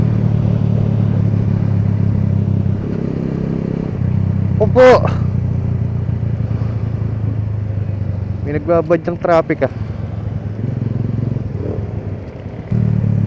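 Keeway Cafe Racer 152 motorcycle cruising in Clark, Pampanga, its steady low engine hum and wind rumble continuing throughout while the rider talks over it and a horn-like tone briefly sounds.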